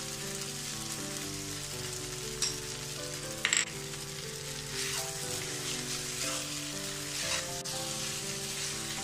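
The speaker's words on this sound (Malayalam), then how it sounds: "നല്ല ഹൈ ഫ്ലെയിമില വെച്ചിരിക്കുന്നത്, നല്ലോണം മിക്സ് ചെയ്യണം." Egg noodles with soy sauce and pepper powder are stir-fried on a high flame, giving a continuous soft sizzle with occasional stirring scrapes and clinks.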